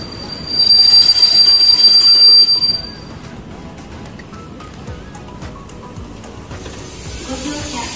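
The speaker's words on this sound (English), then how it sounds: "That train is going to Sapporo." A train pulling out of a station in Japan on a line toward Sapporo, with a loud high metallic wheel squeal over rumbling rail noise for the first few seconds, then a steadier quieter rolling rumble.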